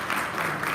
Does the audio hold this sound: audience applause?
yes